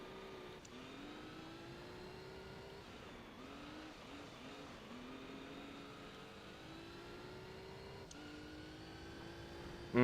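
A race car engine in Gran Turismo 3 holds high revs while sliding through a corner, a steady buzzing drone with gliding pitch shifts and brief gear-change dips, alone and fairly faint.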